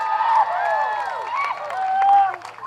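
Applause and cheering from the audience at a Samoan Flag Day show in Utah for the Taualuga Production dance group. A steady crowd wash of clapping and cheers lasts throughout, with a few voices rising above it.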